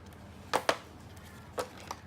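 Scissors trimming paper to fit a 4-inch photo album page: a few crisp, close snips, two in quick succession and then two more spaced apart, over a quiet background.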